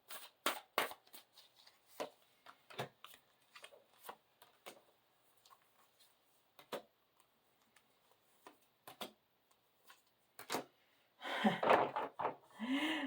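A deck of cards being shuffled up close, with scattered quick riffles and taps that break off into irregular pauses, ending in a louder burst of card noise.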